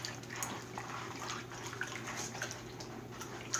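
Gold pay dirt stirred in a pan of clean water, soft sloshing and dripping with faint trickles and small splashes, quiet and close with no talk.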